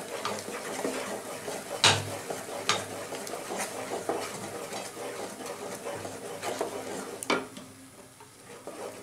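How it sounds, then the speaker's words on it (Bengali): A spoon repeatedly stirs Bengali-style wood apple chutney in a pan, giving steady scraping and soft clatter over a low simmering sizzle, with a few sharper knocks against the pan. "অনবরত আমি একটু ঘাঁটবো।"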